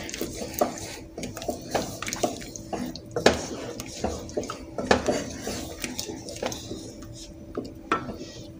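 Butter chicken gets cream stirred into it in a pot, with a spoon clinking and scraping against metal in a quick irregular rhythm, close and clear over a faint background.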